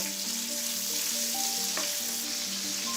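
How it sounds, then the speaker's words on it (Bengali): Onion and green chili fry lightly in a wok of hot oil left over from frying hilsa fish, a constant close crackling sizzle with a single soft stirring knock partway through. "পেঁয়াজ মরিচটাকে আমি হালকা ভেজে নিচ্ছি"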